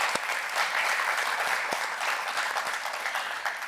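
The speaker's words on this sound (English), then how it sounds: "Can we give her another big round of applause," A theater audience applauds after an Encanto screening, a dense, sustained round of clapping heard close and full throughout, easing slightly at the end.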